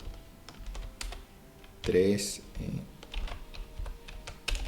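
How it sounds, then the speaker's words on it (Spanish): Computer keyboard keys clatter in short irregular bursts during a 4D chess game, moderately close, with a brief spoken word and some background noise. "estoy peleando con el teclado"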